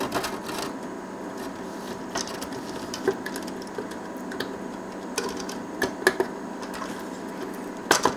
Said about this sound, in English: You've got to rattle them around to make them seat properly